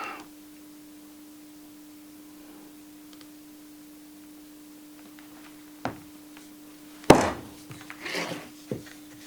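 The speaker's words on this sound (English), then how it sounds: "I'll use one of my bigger gouges. It has a slightly flatter curve." A large, flatter-curved carving gouge cuts into leather for a bushcraft knife sheath, giving a few short, dry scraping strokes near the end of an otherwise quiet stretch with a steady low hum.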